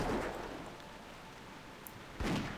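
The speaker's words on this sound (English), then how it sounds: "why is it like a waterfall sound all of a sudden? It's the rain." Rain falling in World of Warcraft Vanilla, a steady hiss like a waterfall with two louder swelling bursts at the start and end, fairly faint overall and heard alone without talk.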